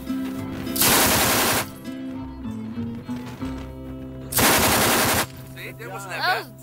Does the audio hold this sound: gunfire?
yes